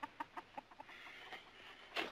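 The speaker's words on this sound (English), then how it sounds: "What about my chicken?" A chicken clucking nearby on a farm: a run of short, evenly spaced clucks, then a pause and one louder, sharper cluck at the end, with no talk.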